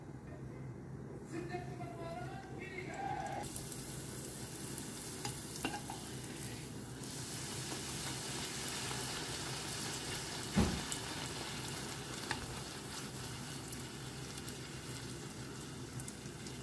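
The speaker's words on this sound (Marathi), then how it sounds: "जेन्ना पुरी करता न्ही तेल न्ही बरें तापोवंक जाय." Puris fry in hot oil with a continuous hissing sizzle that fills the background steadily, while a person talks faintly at the start.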